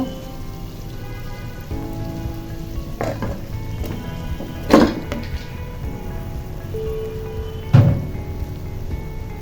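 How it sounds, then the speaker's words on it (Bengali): Cooked rice tipped into a hot pan of stir-frying cabbage and capsicum for Chinese fried rice, with a continuous rain-like sizzle and a few sharp scraping clacks of the spatula against the pan. "তো এই পর্যায়ে আমি রাইসটা দিয়ে দিব।"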